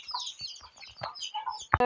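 Chickens cluck with thin, high peeping chicks nearby, ending in a sharp close knock.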